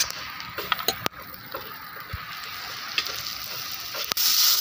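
Diced potato with cumin seeds and turmeric sizzling in a hot pan, a steady close crackle with a few sharp clinks of a spoon against the pan.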